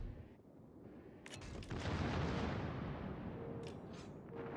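Heavy naval gunfire in World of Warships, a deep booming salvo swelling into a long rumbling roar that sustains for several seconds, with a few sharp cracks layered in and faint game tones beneath.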